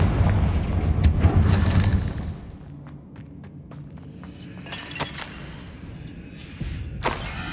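Confringo spell blast in the video game Hogwarts Legacy, a heavy booming burst in the first two seconds that fades into lighter clattering debris and scattered thuds, ending with a sharp crack near the end.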